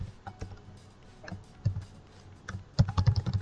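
Code being typed on a computer keyboard: scattered soft key taps at first, then a quicker, denser burst of clicks near the end, close and fairly quiet, with no voice over it.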